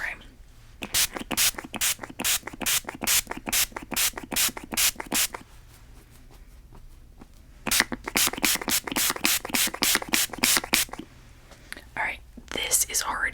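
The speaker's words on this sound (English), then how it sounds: "We're gonna use, of course, the Urban Decay All Nighter setting spray." Urban Decay All Nighter makeup setting spray is pumped in rapid, regular bursts of sharp, hissing spritzes, close and crisp, with a pause between two long runs and soft whispering around them.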